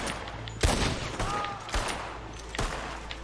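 Gunfire in Red Dead Online, several sharp shots spaced about a second apart ringing out over a steady background din, with faint talk nearby.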